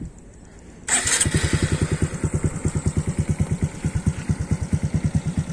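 Honda Dash 125fi motorcycle fitted with an Espada E4 exhaust and open silencer, starting up then settling into a steady idle with a rapid, even low thumping pulse, close and loud, no talking.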